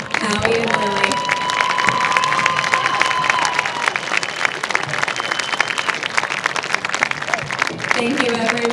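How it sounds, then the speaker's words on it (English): A crowd at a high school homecoming football game applauds and cheers loudly for the 2022 Homecoming King and Queen, a dense, continuous wash of clapping and shouts that holds steady throughout. "Let's give one more loud round of applause for our 2022 Homecoming King and Queen, Howie and Lily."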